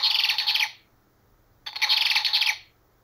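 A Wild Republic toy ruby-throated hummingbird plays a recorded chirp: two bright, high twittering bursts, each under a second long, separated by a short silence and heard close with nothing else around them.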